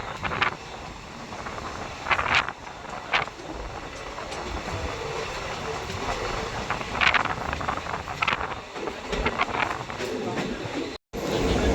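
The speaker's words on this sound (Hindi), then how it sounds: "और अपने WAP7 के साथ कोई ट्रेन आ रही है।" An Indian Railways train hauled by a WAP7 electric locomotive approaches near Delhi after dark, a low rolling rumble with intermittent clanks, heard from a moving train through steady wind buffeting on the microphone.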